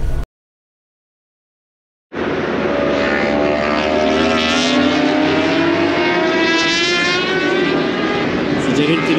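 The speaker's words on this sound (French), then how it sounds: "ça porte de ouf un hélico en fait" A helicopter flies over a 24-hour motorcycle endurance race. After about two seconds of silence, its loud, steady engine and rotor roar cuts in close by and carries on unbroken.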